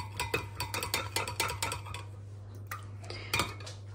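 A metal spoon clinks rapidly and rhythmically against a cup while honey is stirred into a drink, a quick run of bright taps that slows and stops, over a steady low hum.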